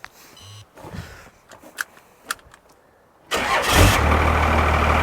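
A Cummins diesel engine swapped into a Ford truck cranks with a few short bursts, then fires and settles into a loud, steady idle close by.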